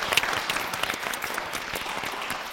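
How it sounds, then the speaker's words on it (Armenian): An audience claps for guests at a live evening show, producing moderate, dense applause that continues evenly throughout with no voices. "Մեր հյուրերին մի հատ բարձր ծափարենք"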